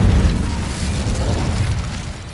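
An Incendio fire spell bursts in Hogwarts Legacy, a short, loud whooshing blast with a boomy low thump at the start that settles into a rushing fiery roar for about two seconds.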